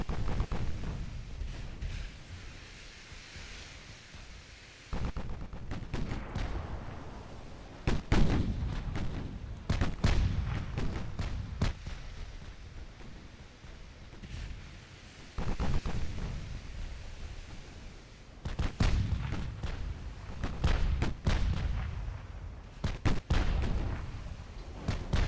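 Naval artillery from a super heavy shell battleship engagement in the Ultimate Admiral Dreadnoughts game, rendered as repeated heavy booming salvos and rumbling blasts at varying loudness, some clustered and some spaced apart, over a continuous low battle rumble.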